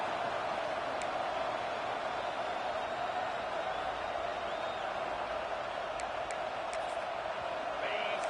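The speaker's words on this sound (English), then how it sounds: "The roar of the crowd trying to fuel this defense to keep them pinned in their own end." A steady stadium crowd roar fills a college football video game, LSU Tigers at Auburn Tigers, as a constant dense wash of noise with faint sharp accents near the end.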